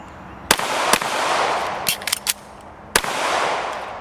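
Canik TTI Combat pistol fired on a range: sharp, loud single shots, two spaced apart, then a quick cluster of three, then another shot, each followed by ringing echo and ambient noise.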